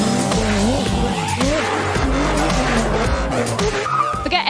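A rear-wheel drive car drifting on a hill course at the Goodwood Festival of Speed Driftkhana, with loud continuous tire squeal over a revving engine and wavering pitch, close and sustained throughout.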